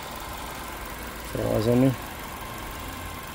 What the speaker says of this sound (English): I'll lift the bonnet up a bit so you can have a listen to the engine running.